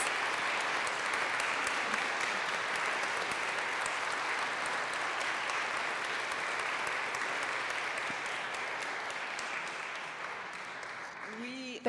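Sustained applause from an evening audience, a dense wash of many hands clapping that stays even for about ten seconds before tapering, with a voice surfacing right at the end.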